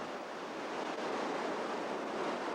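Whitewater rapids on Oregon's wild and scenic Rogue River rush in a dense, steady broadband roar, loud and close, with no voices.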